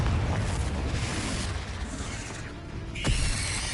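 A Confringo fire spell explodes in the video game Hogwarts Legacy, a sharp burst landing about three seconds in over a dense, rumbling layer of game noise and low booms.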